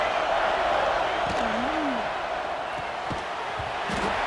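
Crowd noise at a Duke vs Clemson college football stadium game, a broad continuous roar from distant spectators filling the background beneath a commentator's voice.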